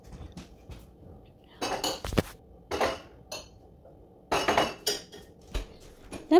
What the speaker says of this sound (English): Let me just put the dishes away.